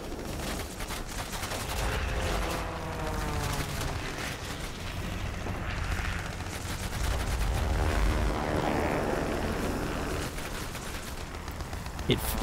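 Guns of an F2A-1 Buffalo fighter plane fire in a video game: dense, sustained machine-gun bursts rattle almost continuously over a steady engine drone, loud and close.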